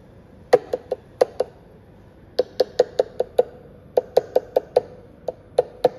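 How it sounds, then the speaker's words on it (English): A cup tapped repeatedly during a vibration measurement with a Polytec VibroGo laser vibrometer in a lab, played back as sharp, close knocks in irregular clusters with short pauses between groups. "I'm going to tap the cup to make some vibrations, and then we'll listen back to how that sounds"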